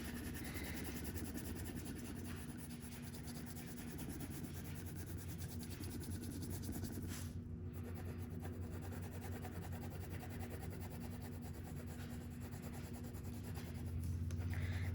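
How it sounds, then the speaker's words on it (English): Steady colored pencil rubbing and scratching across paper while a large letter D is filled in, a continuous close, soft rasp with no voices. "so now let's color in this big D here"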